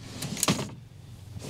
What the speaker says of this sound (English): it releases the drawer slides, and then you can just pull this out